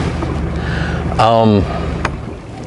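An 18.5-foot aluminum boat runs across rough, choppy lake water, giving a steady close rush of engine and water noise with a brief, louder tonal burst in the middle.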